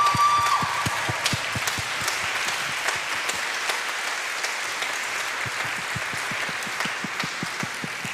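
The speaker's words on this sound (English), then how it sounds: "I will ask for a very special round of applause for them right now" Sustained audience applause at a live stage show for 18 Palace Road, a steady dense patter of many hands clapping at even loudness for the whole stretch, with no voices over it.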